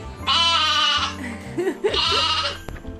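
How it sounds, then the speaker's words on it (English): A goat on a farm on Jeju Island bleats twice, two loud, nasal, wavering calls close by, with faint background sounds between them. "What is that white goat doing?"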